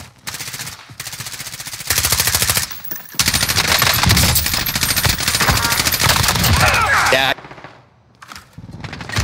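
Bursts of automatic gunfire from the Warzone video game, loud and near, rapid rattling volleys in several long stretches with brief pauses, mixed with voices talking over the shooting.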